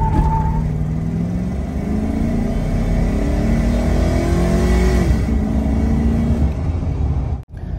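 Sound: tuned stock Chevrolet Silverado truck accelerating, full-throttle pull

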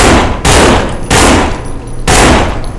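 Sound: gunfire in a zombie video game

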